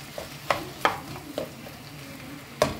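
Bell pepper and ají chili stir-frying in a pan for a cachema fish stew, with a soft steady sizzle under a few sharp clatters of a spoon stirring at intervals.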